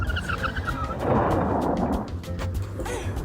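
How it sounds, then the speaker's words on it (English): A car brakes hard and skids in a 1989 movie scene, a broad rough burst of tire-on-road noise building and fading over about a second, set within an ongoing film soundtrack with no talk. "puts both feet on the brakes"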